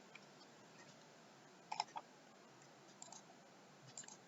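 A computer mouse double-clicking: a quick pair of small, faint clicks, followed by a few more soft clicks against quiet background hiss.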